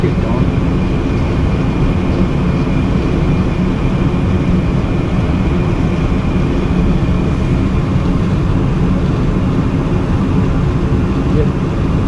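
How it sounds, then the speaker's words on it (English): A furnace blower fan running steadily after the unit lights, a loud, constant broadband whoosh of warm air with a low hum, unbroken for the whole stretch. "I think I just hear the fan just kicked on."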